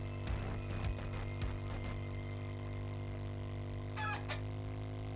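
Chicken in the survival video game 7 Days to Die clucks in a few short, irregular bursts over a steady low hum of game ambience, followed by a brief higher squawk near the end.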